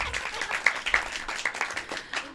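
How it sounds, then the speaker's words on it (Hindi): A small group claps at a Ganesh festival quiz gathering, giving a moderate, uneven round of applause heard fairly close, with scattered individual claps standing out. "इनके लिए तालियां बजा दीजिए।"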